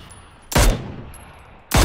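Two loud bursts of gunfire in the video game PlayerUnknown's Battlegrounds, a little over a second apart, each a sharp blast with a short trailing decay over a low background hum.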